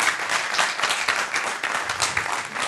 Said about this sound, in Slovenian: En aplavz za Gianfranca Novaka.